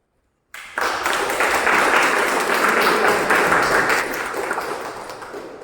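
Meeting audience applauding after a speaker at a speech marathon, a crowd of clapping that starts abruptly after silence, holds steady and loud, then slowly thins out toward the end.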